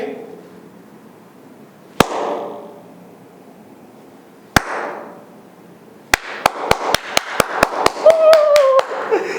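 Hands clap twice with pauses, then a quick run of about ten sharp claps close to the microphone, with faint voices in the background.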